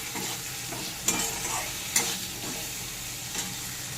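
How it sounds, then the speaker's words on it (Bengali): Potatoes fry and sizzle in a pan with spices and ginger paste for a Bengali fish curry, a steady close sizzle broken by a few sharp scrapes of stirring, with no talk. "এবার এই সব মশলা দিয়ে আলুটাকে একটু কষে নিচ্ছি"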